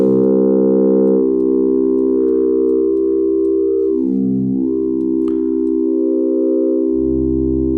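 A Buchla-style West Coast synthesizer holds a sustained, buzzy harmonic tone that glides down and back up as its harmonics are scanned, changing timbre smoothly throughout with no voices.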